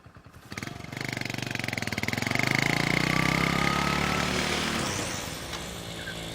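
A motorcycle engine starts and revs, rising into a loud, pulsing mid-range drone that peaks near the middle and then eases off to a steady run, heard close with no talk over it.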